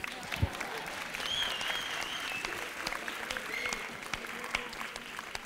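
Audience applause at a spiritual gathering, steady sustained clapping from a crowd at moderate volume, no speech.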